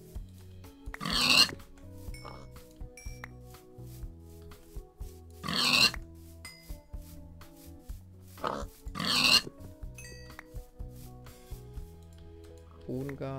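Minecraft pigs snort and oink in three or four short bursts over a steady game soundscape with scattered clicks, and the bursts stand out clearly above the background.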